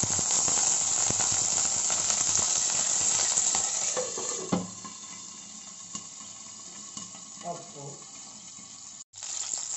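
Curry leaves and dried red chillies fry in hot oil with a loud, continuous sizzle that fades somewhat partway through, with occasional stirring clatter and a brief cut near the end.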